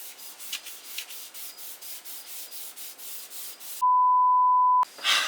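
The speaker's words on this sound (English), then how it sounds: "I now have the headstock sanded to 1200 grit and tack ragged also." Light hand sanding with 1200 grit paper on a guitar headstock makes a steady rhythm of soft, close rubbing strokes, followed by a sudden electronic tone that cuts in near the end.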